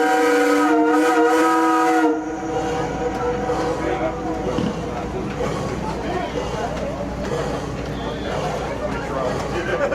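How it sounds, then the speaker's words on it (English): A steamboat's steam whistle on Lake George, New York, blares loud and close in a sustained, harmonic-rich blast for about two seconds, then cuts off to leave engine rumble, wind and people talking on board. "So I'm going to sound our steam whistle."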